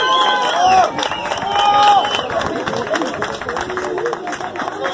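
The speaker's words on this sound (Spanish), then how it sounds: "Fuerte el aplauso." A crowd applauds at a prize ceremony for a Christmas charity race in Tonalá, a dense stretch of clapping and cheering mixed with chatter and a voice over it.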